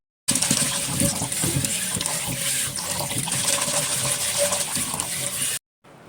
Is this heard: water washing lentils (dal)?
yes